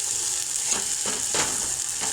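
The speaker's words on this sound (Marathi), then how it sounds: "मस्त असं मसाला भाजून घ्यायचा." Ghati masala spice mix roasting in oil in a pan for a peanut, mixed dal and potato amti, a steady close sizzle with soft stirring scrapes throughout, no voices.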